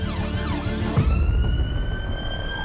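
An ambulance siren wails close by, sweeping up and down in a cycling yelp before switching to a steadier tone, with traffic rumble beneath it.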